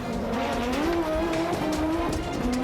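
An Audi Quattro S1 rally car races up Pikes Peak, its engine droning and rising in pitch through gear changes, loud and continuous with a faint tire squeal, and no talking.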